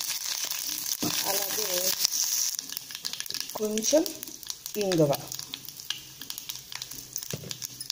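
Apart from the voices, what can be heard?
mustard seeds spluttering in hot oil tempering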